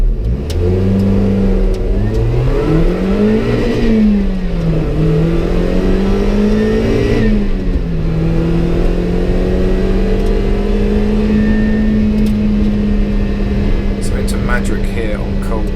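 A Lotus Elise S1 accelerating on a race track: a loud, continuous engine note climbs and dips through gear changes, then holds a steady high drone.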